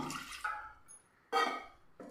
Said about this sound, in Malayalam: ഇനി നമുക്കിതിലേക്ക് ഒരു കാൽ കപ്പ് വെള്ളം ഒഴിച്ചിട്ട് മിക്സിയുടെ ജാറ് നമുക്കൊന്ന്